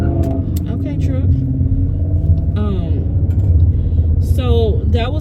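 A truck passes by with a steady low engine rumble that holds through the whole stretch, under a person talking close by.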